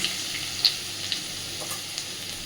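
Crushed garlic fries in butter in a pan, giving a steady, close, bright sizzle with a few small pops and crackles, alone and without talk.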